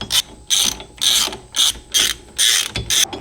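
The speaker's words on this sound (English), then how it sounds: "You got to take the flange nuts off." Ratchet wrench loosening flange nuts on a 1968 Ford Mustang convertible: six or seven quick, loud bursts of rapid clicking, close and evenly spaced with short gaps between strokes.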